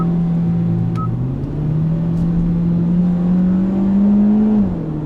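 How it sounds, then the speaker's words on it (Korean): A Hyundai Veloster 1.6 turbo's synthesized race-car engine tone, Extreme mode, drones steadily, its low pitch gradually climbing as if revving, loud and continuous with no voices. "힘있고 역동적인 엔진음 익스트림, 경주용 차량의 강렬한 엔진음"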